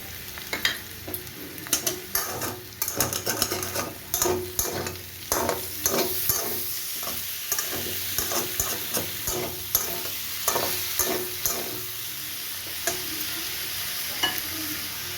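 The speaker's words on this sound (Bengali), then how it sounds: "আলুটা পুরো ভাজা হয়ে গেছে সুন্দর করে এবার আমি এর মধ্যে টমেটো নুন সব আস্তে আস্তে দিয়ে দেবো" Potatoes fry in a pan as tomato and salt go in, with a steady background sizzle broken by repeated scraping stirs and clinks of a spatula, close and fairly loud throughout.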